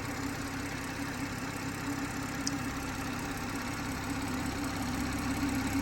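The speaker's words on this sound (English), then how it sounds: "Beautifully smooth engine, the 3 litre straight six with a twin scroll turbo." A BMW M140i's 3-litre twin-scroll turbo straight-six idles steadily and smoothly, humming evenly throughout with a low, constant drone and no revving or voices.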